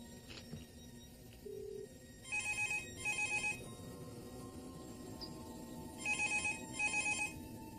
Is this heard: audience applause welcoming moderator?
no